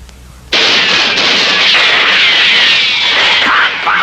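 A loud cartoon gunshot bursts suddenly after a quiet moment and rolls into a long, harsh, noisy roar that holds steady before dropping off at the end.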